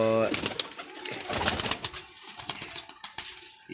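Pigeons at a pigeon club coo softly in the rain, with a steady murmuring rumble, some light wing flutter and someone talking nearby.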